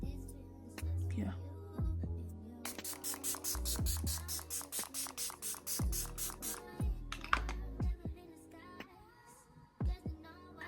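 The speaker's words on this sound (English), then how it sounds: "Using my Milani setting spray, I'm just gonna spray all of this to set it" A Milani setting spray mist bottle is pumped at a face in a run of quick, close, hissing bursts. Soft voice and faint handling noises sit between the sprays.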